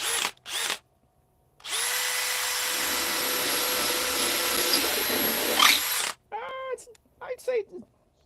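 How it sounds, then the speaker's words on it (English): A DeWalt DCD XR805 cordless drill runs in top gear in one steady, loud burst of about four and a half seconds, with brief talking just before and after it. "say it's about just as quiet as a drill. This is the DCD DeWalt XR805."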